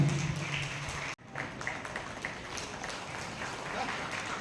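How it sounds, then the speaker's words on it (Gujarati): Audience applause at a Rotary Club hall community prize-giving: a dense, steady patter of many clapping hands that breaks off briefly, then resumes and continues evenly at moderate loudness. "તાળીઓથી વધાવું છું"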